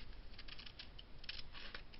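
Scissors snip around a printed paper label circle, a series of faint, soft, irregular cuts close by in a quiet room, with no talking.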